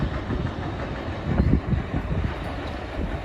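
A CSX freight train pulled by a single locomotive rumbles steadily past at close range, a continuous low roar of rolling wagons with faint rhythmic clatter.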